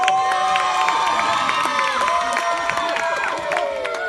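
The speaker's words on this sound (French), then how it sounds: "écoutez bien le bon peuple qui m'acclame" A dense crowd cheers and shouts in acclaim, a loud continuous mass of many overlapping voices with whoops and some clapping throughout.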